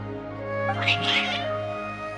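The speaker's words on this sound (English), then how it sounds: "Your cats seem pretty worked up." Cats meowing in the video game Genshin Impact, a couple of quick, agitated mews near the middle over a steady musical background.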